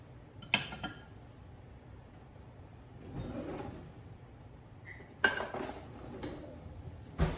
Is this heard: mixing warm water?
yes